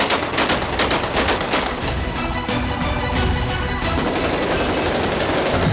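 Bursts of AK-47 rifle fire from Syrian rebels celebrating in the streets, rapid automatic volleys and scattered shots rattling on continuously and loudly, with crowd noise underneath.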